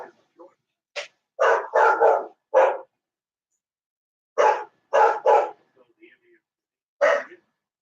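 A pet dog barks indoors during a live baseball reaction broadcast, giving a handful of sharp, loud barks in two quick clusters plus a late single bark.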